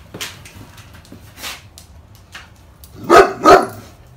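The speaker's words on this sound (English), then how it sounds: "that's a louder bark" Two loud, close dog barks land in quick succession near the end, after a few softer, scattered noises; no talking.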